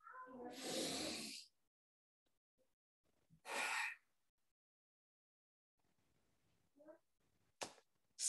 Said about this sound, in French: On va prendre une grande respiration.